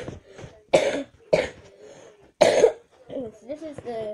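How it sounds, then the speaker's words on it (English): Several sharp coughs from a person, three strong bursts spaced about a second apart, close to the mic, with a little quiet talk following. "another cough."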